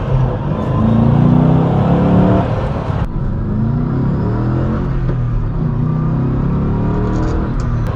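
A Ford Mustang drives with a steady, loud engine drone and rumble heard from inside, the note swelling and easing as it shifts gears and pulls hard under acceleration.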